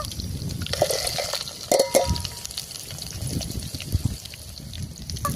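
A village-style mango chutney tempering of mustard seeds, cumin, garlic, curry leaves and mango pieces spits and sizzles in hot oil, with irregular crackling pops over a continuous frying hiss.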